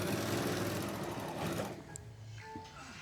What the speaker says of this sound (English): when we sew